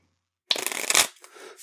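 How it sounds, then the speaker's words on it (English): Playing cards being shuffled for a round of a party question game, a single brisk riffle lasting about half a second, loud and close, followed by a softer settling rustle, with no talk over it. "One more shuffle."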